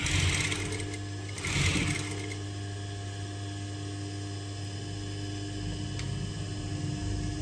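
Sewing machine stitching piping onto a long frock made from an old saree, a continuous close mechanical whir with a steady motor hum and brief louder surges near the start.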